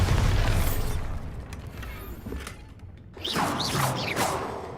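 A Bombarda spell explosion in a Harry Potter video game, a loud booming blast that decays into rumbling debris, then a second burst of crashing and whooshing effects.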